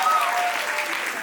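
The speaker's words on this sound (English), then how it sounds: "So round of applause for her." An audience at a university fashion show claps steadily through the whole moment, a dense continuous applause with a faint tone running underneath.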